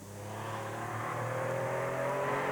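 A Mark II Ford Escort rally car at the 1997 Jersey Rally, its engine droning and rising steadily in pitch as it accelerates, growing louder with no talk over it.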